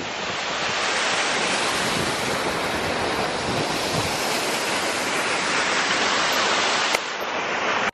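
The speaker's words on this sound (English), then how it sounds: "there was this waterfall we always drive past" A roadside waterfall beside the park highway in Denali, Alaska, pours as a loud, steady broadband rush with no breaks, close and constant throughout, with a brief knock near the end.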